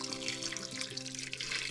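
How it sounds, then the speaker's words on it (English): Hot water running steadily from a tap into a pot of beef set to cook on very low heat, a continuous close splashing stream with no talk. "I'm putting hot water in my beef,"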